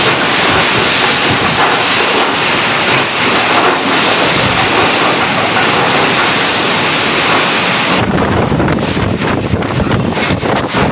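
Strong ocean waves crash loudly and continuously on the shore of an island in Northern Samar during a typhoon, with wind roaring across the microphone and a sharp change in the surf's rush about two-thirds through.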